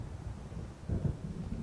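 Low, muffled thunder rolls from an approaching storm in the video game Alan Wake, a quiet distant rumble that swells briefly midway and then fades back into a soft background murmur.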